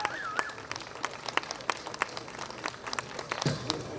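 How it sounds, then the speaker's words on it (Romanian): Audience applause at a Romanian festival prize award ceremony in Ponoare, a scattered crowd clapping fairly faint and steady for about four seconds, with a brief voice near the end. "Aplauze, vă rugăm frumos!"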